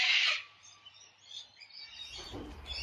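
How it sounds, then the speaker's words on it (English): Small birds chirp and tweet outdoors, a bright burst of calls loudest at the start, then softer scattered chirps with low rumbling background noise toward the end. "so about the birds, they won't be here for the whole video, promise"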